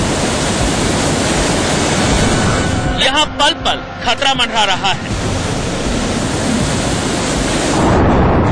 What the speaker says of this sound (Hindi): घरों और मंदिरों को छूती उफनती गंगा की लहरें।